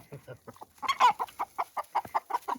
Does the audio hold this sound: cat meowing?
no